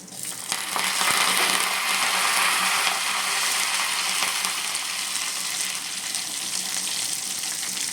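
Urad dal, garlic, dried red chillies and curry leaves frying in hot oil, a loud steady crackling sizzle with sharp popping throughout and no talking.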